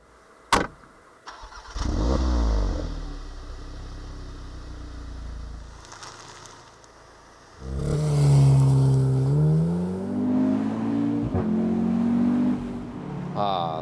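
Petrol engine of a 2015/2016 Audi TTS Roadster under way, a sharp start-up blip followed by a steady driving drone, then a louder, rising acceleration roar with gear-change dips, heard close from inside the open car.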